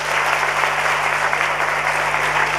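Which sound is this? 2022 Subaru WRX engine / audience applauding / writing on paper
audience applauding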